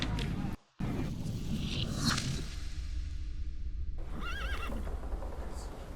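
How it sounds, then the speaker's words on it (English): A horse neighs and whinnies in The Thaumaturge video game, a loud warbling call near the end with hoofbeats and whooshing effects earlier, all clear and close in the mix. "I meant to take the horse out for a ride, so get on."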